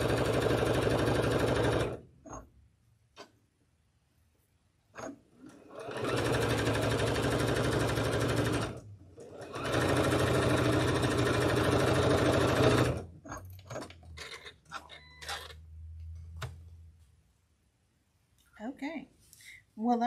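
Juki sewing machine stitching in bursts of fast, loud mechanical whirring separated by pauses, with quieter handling noises and short bits of talk toward the end.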